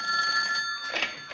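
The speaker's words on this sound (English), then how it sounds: "That's my phone." A telephone bell ringing in a TV crime drama scene, a steady electronic trill sustained throughout, fairly close and alone with no talk over it.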